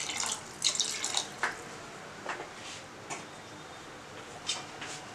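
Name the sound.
water being poured into a cooking pot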